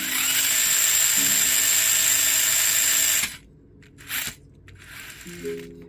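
High-pitched whine of a brushless motor spinning the wheels of a Trx4m RC truck held upside down, loud and steady for about three seconds, then cutting off, with faint short bursts afterward and no talking.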